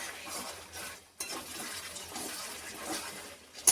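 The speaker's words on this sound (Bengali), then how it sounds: "জল দিয়ে আবার ভালো করে নাড়াতে থাকবো" Water splashes into a pot of chicken curry and a spoon stirs it, soft sloshing and scraping with a sharper clink near the end, fairly quiet and close.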